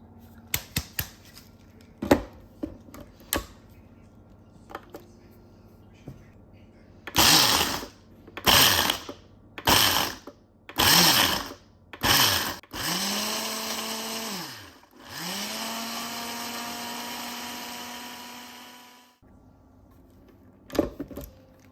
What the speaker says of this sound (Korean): 이제 이대로 믹서기에 한번 갈아볼게요.